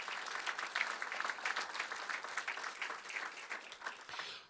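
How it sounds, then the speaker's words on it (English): Lecture-hall audience applauding at a university legacy lecture, a steady, dense wash of many hands clapping that holds for several seconds before tapering at the end, with no talk over it. "Please join me in a round of applause for Dr. Schiele."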